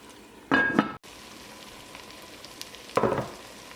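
Chicken and tomato for curry cook in a pan, with two short bursts of sizzling frying and a low simmer in between, close by.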